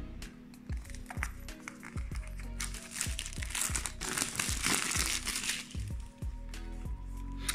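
Crinkly plastic and cardboard packaging of SoundPeats Air 3 wireless earbuds being opened, with continuous close crumpling and rustling over a steady low musical background, no talk.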